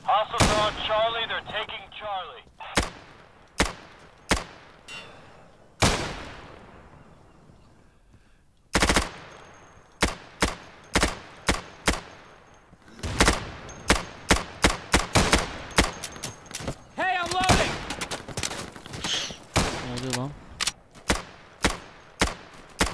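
Rapid gunfire from a tactical shooter game, with bursts of automatic rifle fire and single sharp shots, some loud and close, others fading with long echoing tails, plus a few impact thuds and brief voice sounds between volleys.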